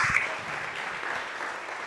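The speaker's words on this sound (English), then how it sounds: "You all clap for Bobby G." A church congregation gives a brief round of clapping for a tech team lead, a short, moderately loud burst of applause that continues evenly.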